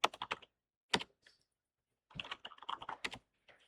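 Computer keyboard keys tapped out in a quick burst, a lone stroke, then a longer run of close, crisp typing while a Linux command is entered.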